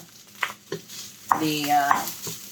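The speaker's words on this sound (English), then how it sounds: "And now we're going to add our quinoa." Tricolor quinoa (red, black and beige) tipped into a hot pan and stirred, giving a short burst of sizzling and scraping that swells and fades over a couple of seconds, alone and fairly close.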